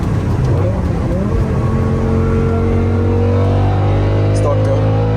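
A BMW E60 M5 in limp mode pulls under load on an American road trip, its engine droning loud and close with steady rising harmonics throughout.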